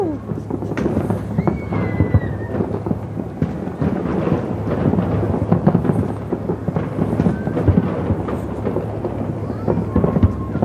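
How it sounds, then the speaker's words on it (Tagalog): Fireworks boom and crackle continuously all around at a distance in Dubai, a dense rumbling barrage with people talking and exclaiming over it. "Palibot ng fireworks eh."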